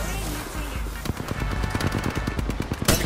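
Automatic gunfire in the shooter game Apex Legends: rapid, loud, close bursts of shots in a fast steady rhythm, ending in a sharp blast.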